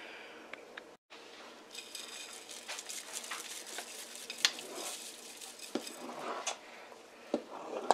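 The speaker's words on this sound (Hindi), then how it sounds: "अब हम इसमें 1/2 से ज़्यादा प्याज डाल देंगे" Fried onions going into a large pot of mutton haleem, with soft scraping, stirring and light clinks of a spoon against the pot over a faint sizzle.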